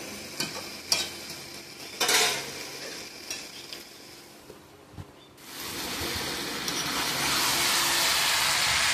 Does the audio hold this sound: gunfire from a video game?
no